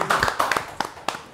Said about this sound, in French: Monsieur le maire, on applaudit quand même.